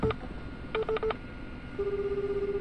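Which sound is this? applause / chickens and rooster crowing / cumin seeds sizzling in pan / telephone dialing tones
telephone dialing tones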